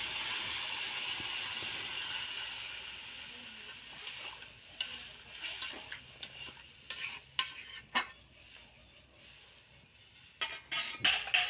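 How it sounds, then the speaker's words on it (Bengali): Water poured into a hot karai of frying food sets off a steady hiss and sizzle, followed by scattered clinks and scrapes of a utensil against the pan, with no talk. "এখন আমি সিদ্ধর জন্য জল দিয়ে দেবো"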